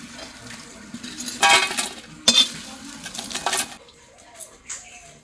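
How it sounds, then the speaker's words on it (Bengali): Fried chillies are lifted out of a pan of hot oil, with several close bursts of utensil scraping and clattering against the pan over a faint sizzle, followed by a quieter pause. "লঙ্কা ভাজা হয়ে গেছে, এখন লঙ্কা ভাজাগুলো তুলে নেব।"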